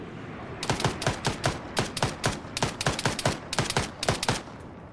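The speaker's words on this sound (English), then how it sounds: "Shots go out, so he's taking a hit." Gunfire in the military video game Arma: a steady run of sharp shots, singles and quick bursts, evenly spaced over several seconds, loud and close with no talk over it.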